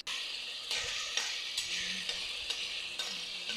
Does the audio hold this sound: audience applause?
no